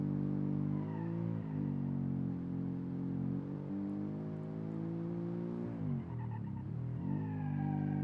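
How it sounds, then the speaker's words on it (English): Car engine from the BeamNG driving game, a 1970s car with a Porsche shell, drones steadily and loudly throughout, its pitch rising and falling with throttle changes and briefly dipping near the end. "Can you hear this engine of this car?"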